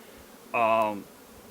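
A honey bee in a colony checking out a newly introduced Saskatraz queen gives one short, close buzz lasting about half a second against a quiet hive background.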